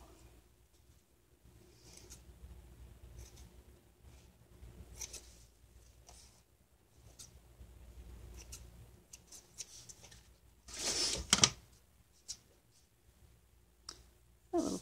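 Scissors trimming excess paper from an altered book page, a quiet scattering of soft snips and clicks with a louder burst of cutting and rustling near the end, no talking.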